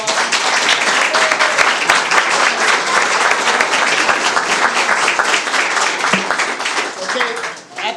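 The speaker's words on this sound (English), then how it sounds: "Let's give them a round of applause" Dense, loud applause fills a city council chamber from an audience clapping together, steady throughout and fading slightly near the end.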